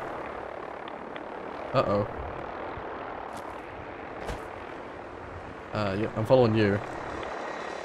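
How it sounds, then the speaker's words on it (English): Vertibird aircraft from Fallout 4 passing overhead as a broadband rotor roar beneath bursts of game audio, with a voice speaking briefly over it. "That sounds like a vertibird."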